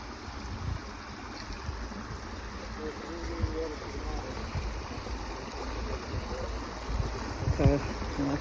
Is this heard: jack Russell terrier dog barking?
no